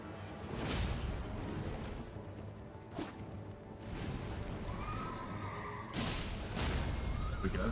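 Horse neighing in the Elden Ring video game, whinnies sounding amid game noise with a couple of sharp impacts and whooshes, fairly close.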